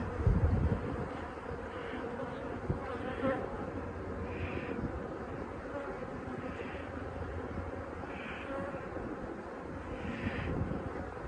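A steady swarm of honeybees buzzes close by around a hive frame during a winter inspection, a continuous droning hum with occasional louder passes and some rustling handling noise.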